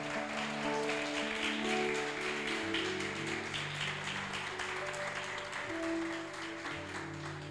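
A church congregation applauds at an evening family service, a soft continuous patter of clapping beneath sustained organ-like tones that shift pitch, fairly distant and quiet.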